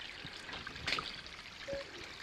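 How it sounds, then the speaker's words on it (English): Mountain stream running along a hiking trail in the Smoky Mountains, a soft continuous trickle and flow of water close by with small splashes. "this looks like probably your best source for water so far."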